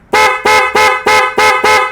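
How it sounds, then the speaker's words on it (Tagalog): A Honda Click 125 motorcycle horn honks six times in quick, even bursts, loud and close, each toot short and bright with brief gaps between. "Kung gusto mo sabay sa busina."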